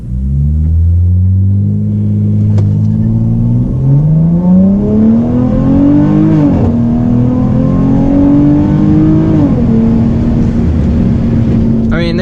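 A V6 Dodge Challenger's engine is held on the brake and revved to about 2,000–2,500 RPM for a launch, a loud continuous close drone whose pitch climbs in steps and then holds.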